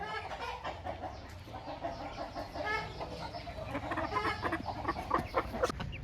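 A heavy, double-bodied hen clucks repeatedly at close range, a run of short throaty calls with faint background voices and farmyard noise around it.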